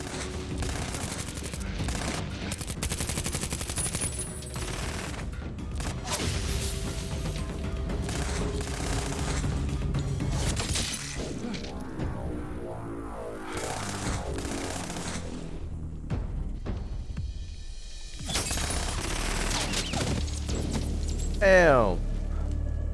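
Gunfire in a Better Call Saul scene, rapid bursts of shots and crackling volleys through much of the stretch, with a quieter gap midway and voices talking over parts of it.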